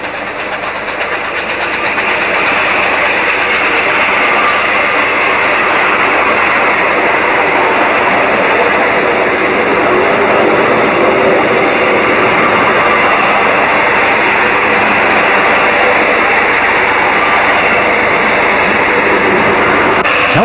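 The Red Devil steam locomotive runs past with a loud, continuous rumble and rolling noise, steady and close for the whole stretch.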